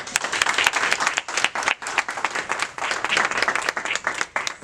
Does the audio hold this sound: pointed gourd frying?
no